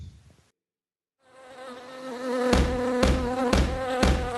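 A swarm of bees drones in a dense, steady buzz that rises after a brief silence and grows louder. Several rhythmic thumps beat through it.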